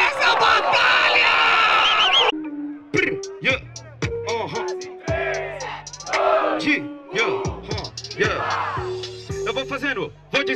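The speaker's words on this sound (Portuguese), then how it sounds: "Palmas pra essa batalha!" A rap battle crowd erupts in a loud roar of cheering and clapping for about two seconds, then excited shouting voices trade bursts over a thumping beat.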